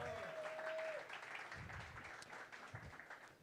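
Light audience applause at a casual evening talk event, quiet and somewhat distant, with a brief tone and a few low bumps heard over the clapping.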